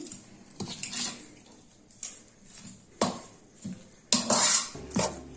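A spoon works gongura leaves and ground chili powder together in a metal pot, giving repeated scraping clinks and knocks in an irregular stirring rhythm, loud and close.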